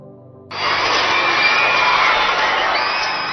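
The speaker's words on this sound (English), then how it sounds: "Applause rings through St." A crowd in St. Peter's Square bursts into loud applause and cheering for Pope Francis's first Christmas message, starting abruptly after a brief quieter moment and holding steady, broad and dense.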